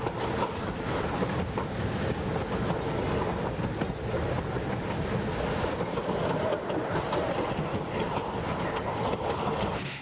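Train hauled by locomotive number 204 on a Guatemalan railway, a continuous dense rumble and rattle of rolling cars, steady and moderately loud throughout, with no talk.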